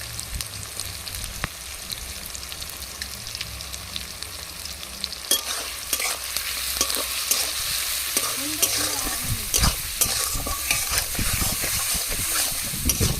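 Ginger-garlic paste frying and being stirred in a pan while cooking a green-banana and rupchada fish curry, a steady sizzle that grows louder and busier partway through, with scraping stir sounds and no talking.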